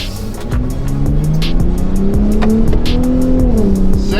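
A 2025 Ford Raptor accelerates in manual mode with paddle shifts. The engine note climbs steadily and loudly, broken by brief clicks and shift gaps, in a close, continuous pull from inside the truck.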